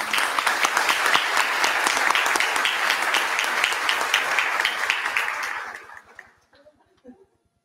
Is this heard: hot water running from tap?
no